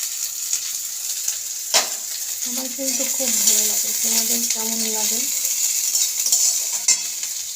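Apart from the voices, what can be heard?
frying pointed gourd and onion in a pan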